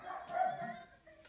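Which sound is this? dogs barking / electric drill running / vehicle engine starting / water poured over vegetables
dogs barking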